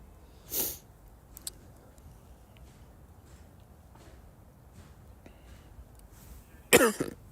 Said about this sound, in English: The cold weather has provided me with a small little cough